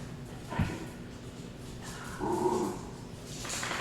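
A dog barks once sharply, then whimpers and whines in a short rising burst, close by and fairly quiet, in an otherwise calm room during a hot spell.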